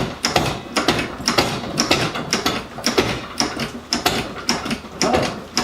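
A car jack ratchets up inside a homemade woodworking veneer press, giving a steady series of sharp, closely spaced clicks that repeat rhythmically throughout, loud and near with no talk.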